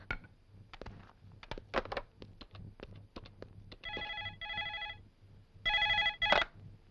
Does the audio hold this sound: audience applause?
no